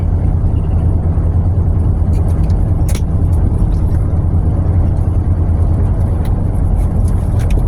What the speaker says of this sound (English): this motorhome is quieter and smoother than my truck